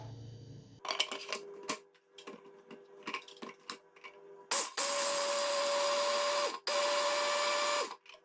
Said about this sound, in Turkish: Bir su bardağı fındığım var. Önce bunu çekiyorum.